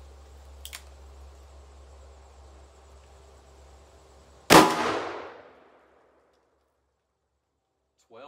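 A single sharp .44 Magnum gunshot firing a Hornady 240-grain XTP bullet into a backstop cracks loudly after a quiet stretch with a faint click, then rings and decays to silence.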